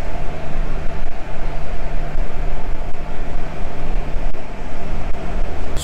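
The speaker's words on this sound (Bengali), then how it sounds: "আমাদের ট্রেন ছেড়ে দিল বোকারো স্টিল সিটি স্টেশন থেকে" The 18627 Howrah Ranchi Intercity Express pulls out of Bokaro Steel City station, heard from inside the coach as a loud, continuous low rumble and steady rolling drone with faint periodic thumps.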